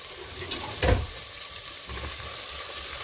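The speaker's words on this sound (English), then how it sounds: "I'm going to add some of my onions and my green onions. And I'm going to saute" Onions and green onions sizzling as they hit hot olive oil in a pan, a brief loud burst of frying followed by a steady, quieter crackle, with no talking.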